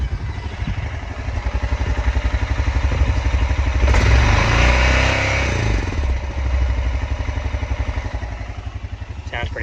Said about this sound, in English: we'll crank it up. See if it makes any noise idle.